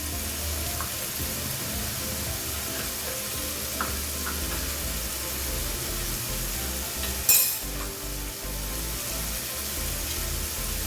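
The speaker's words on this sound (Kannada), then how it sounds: "ಇವೆಲ್ಲ ಸ್ಪೈಸಸ್ಸು ಚೆನ್ನಾಗಿ ಹಸಿ ವಾಸನೆ ಹೋಗೋಕ್ಕೂ ಸ್ವಲ್ಪ ಫ್ರೈ ಮಾಡಬೇಕು ಫ್ರೆಂಡ್ಸ್" Ground spices, coriander powder and chili powder, fry in a pan for vegetable pasta with a steady, close hissing sizzle, broken once by a brief scrape or clank of stirring partway through, no voices.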